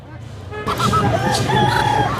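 Local rooster crowing at a Tongi chicken market, a bright, loud crow that rises partway through over steady crowd babble and market chatter.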